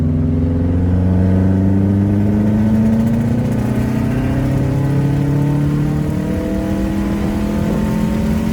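A Subaru WRX STI with a Stage 2 e-tune is floored from 2,500 RPM, its engine roaring loud and continuous as the pitch climbs steadily through the rev range, close and alone.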